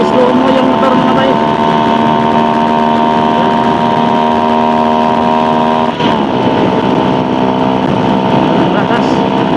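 Drag race motorcycle with no air cleaner, the engine revving hard and loud up close with a sustained whining drone, dipping briefly as it shifts gear and then climbing again.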